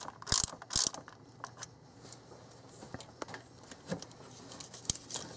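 Ratchet wrench tightening the bolts on a new Motorcraft water pump during installation, giving rapid clicking pawl bursts, louder at the start and then scattered lighter clicks, close up with no talking.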